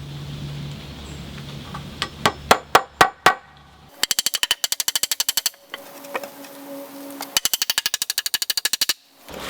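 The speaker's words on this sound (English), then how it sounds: "I'm having to hold the boards and nail at the same time" 16D nails are driven into wooden wall studs for a small house frame: a few sharp, close hammer strikes, then two long bursts of rapid, evenly spaced blows separated by short quiet gaps.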